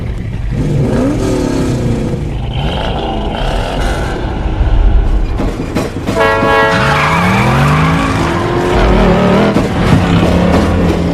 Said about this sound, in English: with a train horn sounding signal, the race begins